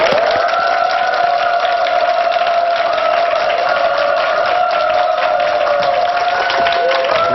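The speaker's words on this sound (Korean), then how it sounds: "여러분 큰 박수로 맞아주시기 바랍니다" Lecture audience in a Korean televised talk welcoming the speaker with continuous, loud applause, a dense steady wash of clapping with a constant tonal hum running underneath throughout.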